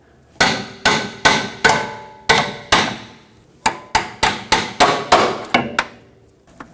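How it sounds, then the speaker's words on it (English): Repeated hammer blows on the end of a pry bar, knocking loose a power steering rack clamp on a 2015-2024 Jeep Renegade during inner tie rod replacement: about fifteen sharp, ringing metallic strikes in two quick bursts, close and loud. "use a hammer on the end of the pry bar to tap that clamp and break it off"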